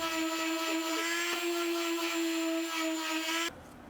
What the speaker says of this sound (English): Then I finished sanding using my random orbital sander